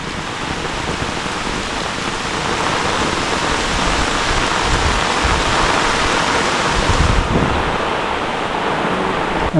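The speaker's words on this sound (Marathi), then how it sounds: "पाऊस आला आहे भरपूर मोठा पाऊस आला आहे" Heavy rain pours down in a Konkan village forest, a loud, dense, unbroken roar of drops on leaves and ground that stays steady throughout, with no voices.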